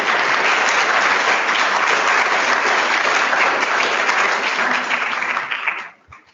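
After a speech at a medical student information evening, an audience claps loudly and steadily, the applause tapering off and fading out near the end.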